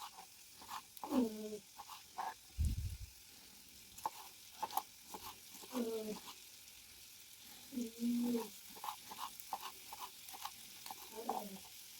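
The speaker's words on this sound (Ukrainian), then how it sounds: "Зараз трішки цибулька з перчиком пережариться." Onion and peppers frying in a pan, with a quiet, steady sizzle broken by intermittent stirring scrapes and soft clinks.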